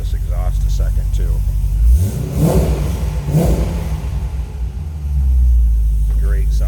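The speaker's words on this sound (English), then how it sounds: "take a listen to this exhaust a second too." A 2005 Chevrolet Corvette coupe's exhaust burbles at idle, then revs twice in quick succession with a deep rising roar before settling back into a low, loud rumble; a voice speaks briefly near the start and end.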